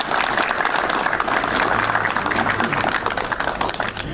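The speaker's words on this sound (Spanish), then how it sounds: "un aplauso para ella" Loud, dense applause from an audience at a street inauguration ceremony, many hands clapping continuously and close for the whole stretch, with a faint murmur of voices underneath.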